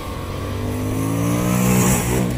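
A Royal Enfield 650cc twin-cylinder motorcycle engine accelerates hard, its loud, close roar climbing steadily in pitch.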